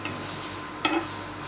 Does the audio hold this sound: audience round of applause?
no